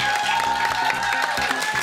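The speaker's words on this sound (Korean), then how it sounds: "박수!" A studio audience at a K-pop fan meet event claps and cheers, with rhythmic clapping and a brief burst of crowd noise over steady background music.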